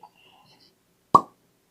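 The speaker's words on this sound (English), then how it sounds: "Decent cork pop, not very loud, but decent cork pop." One short, hollow pop as the cork pulls free from a bottle of Lux Row PX Sherry Cask Finished whiskey, crisp and close, in an otherwise quiet room.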